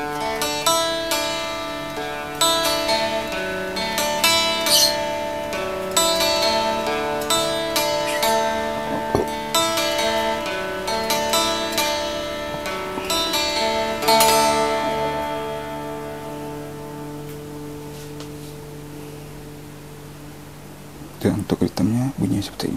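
An electric guitar picked through a Boss DS-1 distortion pedal rings out with repeated strummed and picked chords that sustain and decay into a long fading tail, followed by a few short bursts near the end.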